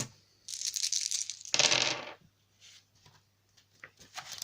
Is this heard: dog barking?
no